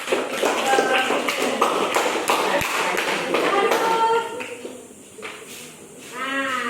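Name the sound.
classroom applause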